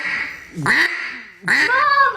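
Two loud nasal duck quacks, heard close up in a duck-hunting setting, each call a harsh descending honk with a short pause between them.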